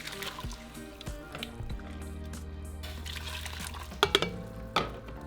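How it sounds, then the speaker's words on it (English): Strained broth poured back into a cooking pot for chile sauce, a soft liquid trickle and splash running under steady background tones, with a few sharper clinks and splashes near the end. "in the same pot, I'm going to return 2 cups of our broth."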